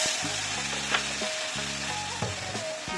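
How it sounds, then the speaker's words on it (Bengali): Coriander powder, sugar and spices sizzle and fry in a pan for a Bengali catfish curry, a close, steady crackle with brief scraping stirs as the mixture is cooked down. "ধনের পাউডার দিলাম। এটাকে আমি ভালো করে কষিয়ে নেব।"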